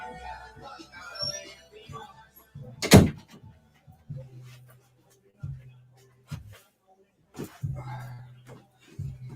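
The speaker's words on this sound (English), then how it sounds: "I'm gonna close the door." A door closes indoors with a sharp, loud thud early on, followed by quieter knocks and low hums, with a few soft bumps and faint movement around it.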